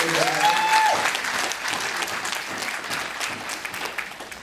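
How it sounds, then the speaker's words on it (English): Crowd applause for honorees at a retirement celebration, dense steady clapping from many people filling the room for several seconds, with a brief rising whistle-like tone near the start. "You can applaud them."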